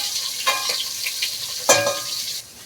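Onions sizzle and fry in a pot for a beef bourguignon, a steady bright hiss broken by a couple of louder scrapes as they are stirred, with no talk.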